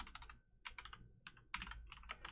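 A computer keyboard clatters briefly as a code comment is typed, quick bursts of close, light key clicks with short gaps between them, faint and alone without talk.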